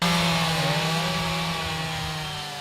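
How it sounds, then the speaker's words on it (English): Chainsaws cut up trees snapped by a tornado, giving a steady, loud, continuous buzzing drone with no pauses, slowly fading a little toward the end. "The reassuring buzz of chainsaws"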